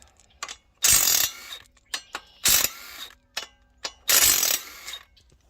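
Socket ratchet turned back and forth while removing bolts on a 1999–2013 LS engine during a rear main seal leak repair: bursts of close, loud clicking strokes separated by short pauses and lighter taps.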